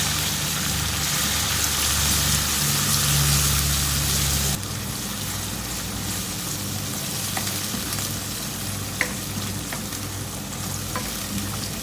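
Steady frying sizzle from a hot pan of onions, loud and close, with the hiss thinning partway through as garlic ginger paste is stirred in; no talking.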